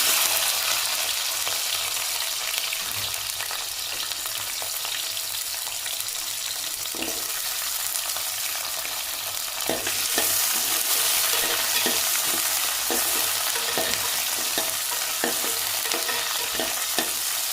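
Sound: small onions frying in pan for mutton curry

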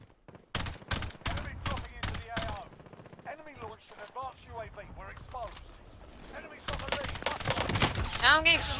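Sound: gunfire in the video game Warzone

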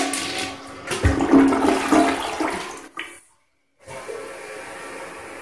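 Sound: small flush of an American Standard H2Option toilet

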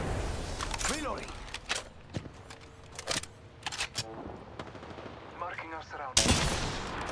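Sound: gunfire in a video game

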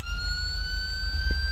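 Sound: ambulance siren in GTA V video game

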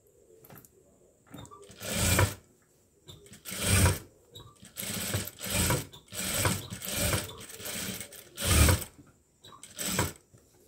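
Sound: sewing machine stitching a sleeve

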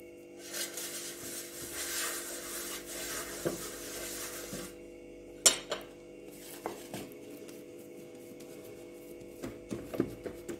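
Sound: greasing a baking tray with oil by hand

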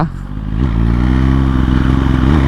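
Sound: Suzuki GSX-R1000R motorcycle engine

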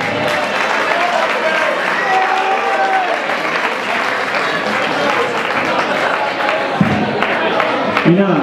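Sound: audience applause at a charity concert

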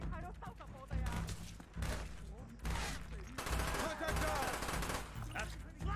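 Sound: gunfire from enemies in the video game Call of Duty: Black Ops

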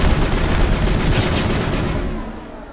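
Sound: shotgun gunfire from video game Mass Effect

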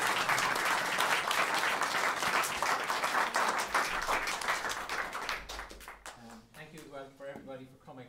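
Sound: audience applause

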